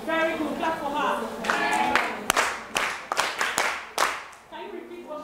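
Students in a classroom clap for a classmate, a brief burst of scattered hand claps rising over classroom voices, with several sharp separate claps trailing off as talking continues.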